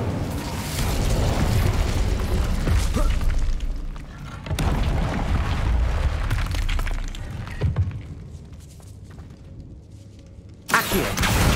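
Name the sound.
Incendio fire spell effect in Hogwarts Legacy video game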